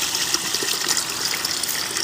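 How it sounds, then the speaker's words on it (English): Water streams steadily through a small disappearing garden fountain, bubbling up through a flower pot and spilling over as a little waterfall, a continuous close, even gush and trickle with no voices. "This is a disappearing fountain,"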